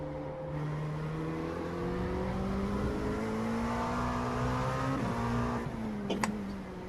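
Prototype race cars lapping Road America in an IMSA LMP2 sim race roar steadily at close range, engine pitch rising through the gears with a brief upshift blip near the end and other cars droning alongside.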